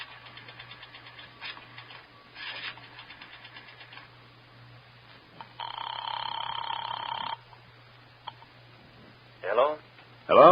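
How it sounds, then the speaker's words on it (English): A payphone is dialed and rings in an old-time radio drama: soft mechanical clicks of dialing, then a steady ringing tone, followed later by a few louder bursts over a low constant hum. "I drove as far as the nearest drugstore, dropped a nickel in the slot, and dialed."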